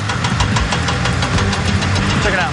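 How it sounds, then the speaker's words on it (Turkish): A hydraulic jack lifting 72 tonnes at a seawater desalination plant drones and knocks steadily, loud and close, with a rumbling rhythmic pulse like machinery straining under load. "Krikomuz 72 tonu kaldırmaya başladı"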